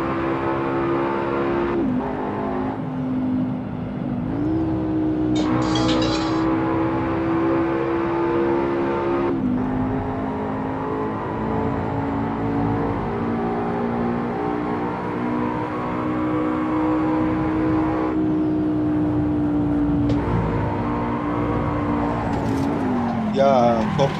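A car engine drones and revs through gear changes while driving in traffic in Assetto Corsa, with pitch climbing and dropping over a sustained hum as someone talks over it.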